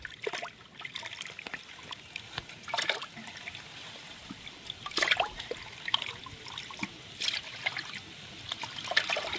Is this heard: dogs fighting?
no